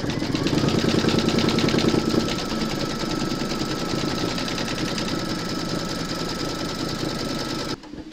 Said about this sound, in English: you're going to pop your hoop into your machine and stitch round number 6